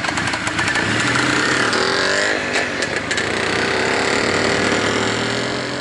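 The engine of an IZh Planeta 2 motorcycle with a newly fitted motor runs loud and close outdoors, a steady buzzing drone with slight rises in revs on a first test ride.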